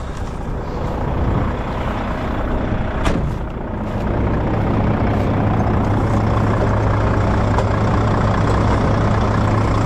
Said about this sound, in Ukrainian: трактор вон під'їжджає